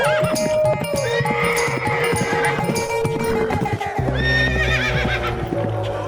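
A horse neighs loudly and repeatedly as a story sound effect, with rhythmic hoofbeats clopping beneath and a second, higher whinny near the end, alone without speech.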